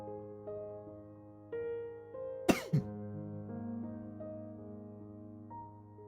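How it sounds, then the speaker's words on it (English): A single sharp cough, close and fairly loud, breaks through soft sustained background music tones, followed by a brief throat sound. "I'm probably going to be coughing a lot."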